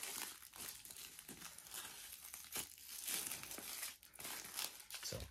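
The crinkly wrapper of an IFAK dressing package rustles and crumples as it is folded by hand. The sound is faint and close, with irregular crinkles and small snaps throughout.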